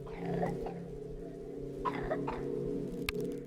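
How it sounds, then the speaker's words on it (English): In a horror video game, a child coughs behind a locked door, a few muffled, faint coughs under a steady low hum of ambience. "you can actually hear a child cough behind one of the locked doors"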